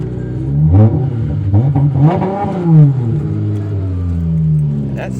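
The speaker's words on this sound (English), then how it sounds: "Give her a little rev, see how she sounds." A Dodge Charger V6 revs in a short series of throttle blips, the engine rising and falling over a steady idle close by, with people talking over and between the revs.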